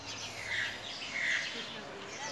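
Birds chirp and call outdoors in Victoria, Tamaulipas, with two brief bright high calls rising above a steady noisy background, moderately close.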